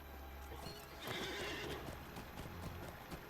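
Horse hooves clip-clop with whinnies and neighs in Lord of the Rings Online, a steady galloping rhythm that swells near the middle over a constant game ambience, with no talking.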